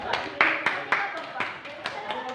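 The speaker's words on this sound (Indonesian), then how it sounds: "Oke, tepuk tangan dulu untuk kita semua." A small counselling group in a classroom gives a short burst of scattered hand claps, a handful of distinct sharp slaps rather than full applause, close by and mixed with voices talking.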